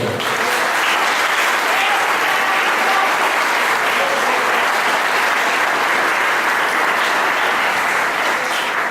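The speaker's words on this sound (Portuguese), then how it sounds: "Quem compreendeu, aplauda o Senhor." Loud, continuous applause from a church congregation during an evening worship service, a thick unbroken roar of many hands clapping throughout.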